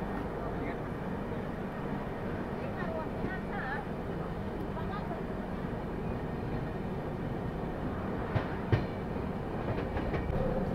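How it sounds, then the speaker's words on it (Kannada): Humsafar Express train pulling out of Bangarapet Junction station, a steady rumbling roar of rolling stock with faint clicks and a couple of sharp knocks, continuous and fairly loud throughout. "ಇದು ನಮ್ಮ ಟ್ರೈನ್ ಆ್ಯಕ್ಚುಲಿ ಹೊರಟ್ಬಿಟ್ಟಿದೆ ಬಂಗಾರಪೇಟ್ ರೈಲ್ವೆ ಸ್ಟೇಷನಿಂದ"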